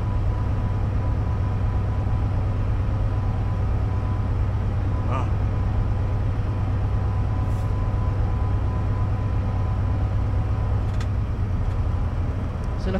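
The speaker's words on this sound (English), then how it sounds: "all I'm doing is driving the train in Wales all the way down to Seven Tunnel Junction" Freight train being driven in Wales toward Severn Tunnel Junction in Train Simulator 2017, a constant low rumble of engine and rolling wheels with faint clicks and squeaks, steady and close throughout.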